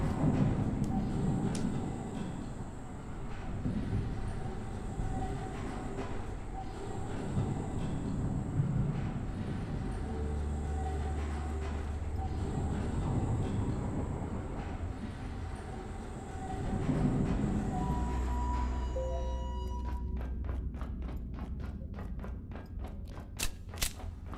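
Tram rolling along rails in the video game Abiotic Factor, a steady low rumble with soft thumps and clanks throughout, loud and close, ending in a rapid run of sharp metallic clicks.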